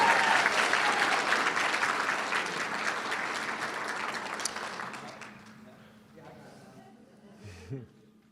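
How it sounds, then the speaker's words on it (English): A large round of applause at a student awards night, loud and dense at first, then thinning into scattered claps over several seconds as low voices and shuffling emerge underneath. "give James one more big round of applause"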